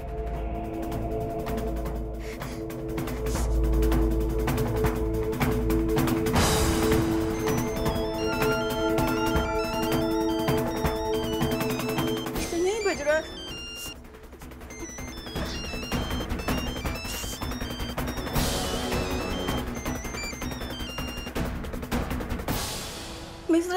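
A telephone rings in a domestic TV drama scene, with repeated bell-like electronic tones running through the clip amid music and background sound, fairly loud throughout.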